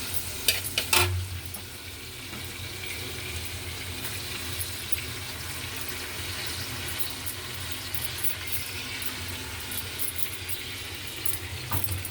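Drumstick leaves frying in a pan, a steady soft sizzle with occasional clinks of stirring, continuous and fairly even throughout.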